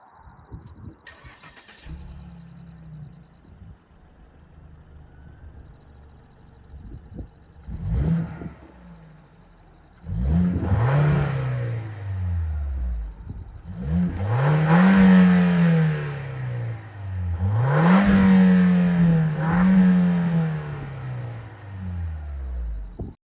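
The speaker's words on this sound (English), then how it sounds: "we're going to show you an exhaust clip" A 2015 Ford Escape with dual exit exhausts starts up and idles, then is revved repeatedly, with three rising-and-falling engine swells heard close and clear after the start.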